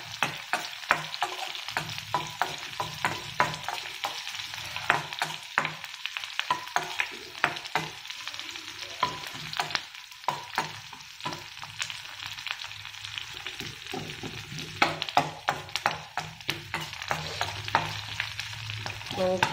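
Raw mango chutney frying in a pan while being stirred: steady sizzle with frequent scraping, clinking stirs throughout, moderately close, no talking.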